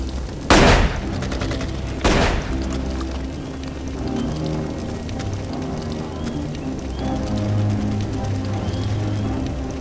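Two loud gunshot blasts ring out close by early on, followed by a dense, rumbling background of continuous noise with a tonal hum.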